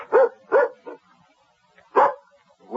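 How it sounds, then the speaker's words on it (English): A dog barks close by in a radio drama, giving three quick barks, then a pause of over a second, then another bark and the start of one more. Each bark is loud, sharp and clear, and no talk is heard over them. "It's just the dog."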